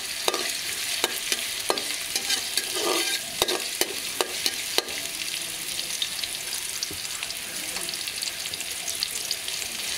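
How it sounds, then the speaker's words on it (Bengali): Chopped onions fry in hot oil for a fish dish, a loud, close, continuous sizzle broken by repeated clinks and scrapes of stirring. "গরম তেলের মধ্যে এখন পেঁয়াজ কুচি দিয়ে দিচ্ছি মাছটা রান্না করার জন্য।"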